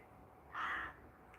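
A single harsh caw from a crow, fairly close, standing out against quiet outdoor background noise.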